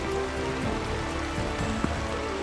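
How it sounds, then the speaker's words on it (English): Raindrops patter steadily on a rain cover fitted over a camera during a sika deer hunt in a sudden heavy downpour, a dense, close, continuous hiss with a few sharper drop hits and no talking. "I hear a lot of raindrops hitting it."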